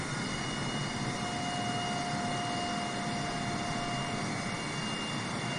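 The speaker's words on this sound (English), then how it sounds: "The good old Boeing 747." Boeing 747 engines in a flight simulator game give a steady, unbroken jet drone with a faint whine, constant in level from start to finish, with no voices.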